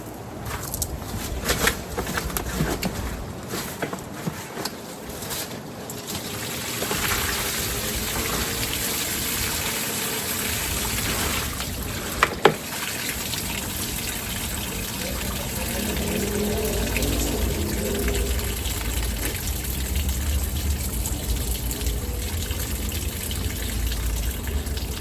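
Water gushing and trickling steadily out of holes drilled in the bottom of a fruit-tree container bin, a continuous close splashing flow with a few brief knocks.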